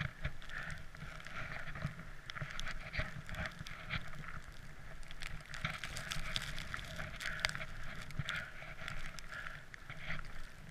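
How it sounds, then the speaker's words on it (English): Wind blows outdoors in Brighton during a run, a steady rushing roar with buffeting gusts across the microphone that holds throughout at moderate loudness with no talk. "Lovely wind."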